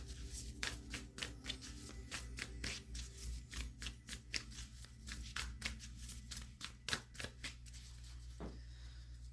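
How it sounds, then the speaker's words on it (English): Cards are shuffled repeatedly up close, a quick run of crisp riffling snaps and flicks in irregular bursts over a low background hum. "All of the decks have been pre-shuffled. Want to shuffle them anyway"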